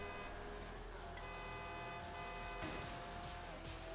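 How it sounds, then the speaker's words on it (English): In Forza Horizon 3, a car horn honks at rival racers during an open-lobby race between an Enzo and a Carrera GT, with a few short toots over a constant engine and game drone. "The trick is you honk at them, it messes them up."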